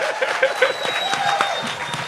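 Studio audience applause on a podcast set, a steady patter of clapping with a few whoops and chuckles mixed in, moderately loud throughout.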